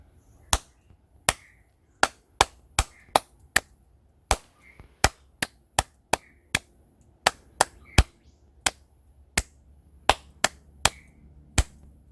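Sharp single hand claps, close and crisp, tapping out a beginner sight-reading rhythm exercise in an uneven pattern of short and longer gaps, about two dozen claps with near silence between them.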